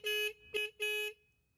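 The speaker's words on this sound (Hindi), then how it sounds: "काफ़ी ठीक हॉर्न लगा है मेरे को।" The horn of a Triumph Scrambler 400 XC motorcycle sounds three short, bright beeps, two longer blasts around a quick middle tap, clear and close with nothing else around it.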